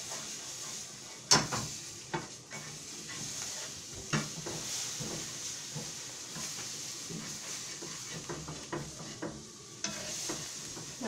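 Scrambled eggs cooking in a pan, a steady low sizzle with stirring and scraping against the pan, one sharp knock near the start and several smaller clicks through the rest.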